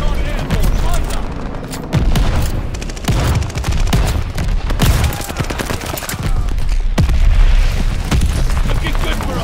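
Dense, loud gunfire in the Call of Duty Vanguard multiplayer match on the Eagle's Nest map, aimed skyward at enemy recon aircraft, with rapid bursts, booming shots and explosions rolling continuously through the clip.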